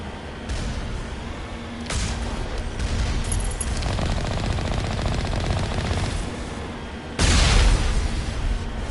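Combat in the video game Mass Effect: a continuous loud barrage of rapid gunfire with sharp bursts and a heavier missile-like blast near the end, no voices.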